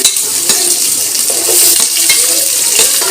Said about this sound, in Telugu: కొద్దిగా ఆనియన్స్ అయితే వేసుకుందాం. ఆనియన్స్ వేసుకొని